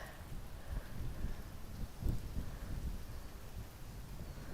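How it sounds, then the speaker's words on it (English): Wind blowing across a lotus pond on a hot day, a low steady rumble of gusts buffeting the microphone, fairly faint and continuous with no voices. "The wind's very welcome"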